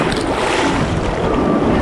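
Ocean waves breaking at Laie Beach on Oahu's North Shore, a loud, continuous close-up roar of surf and rushing water mixed with heavy wind buffeting the microphone.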